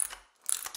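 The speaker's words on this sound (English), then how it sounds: "Defusing the bomb now!" A bomb being defused in a 4v4 wager match of a video game, heard as a short mechanical ratcheting and clicking sequence of two quick bursts, close and fairly quiet.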